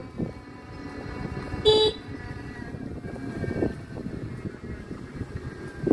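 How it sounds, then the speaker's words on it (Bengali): An electric motorcycle sounds one short, bright horn beep early on, set against a low rumble of road and traffic noise. "হরন দিও আবার"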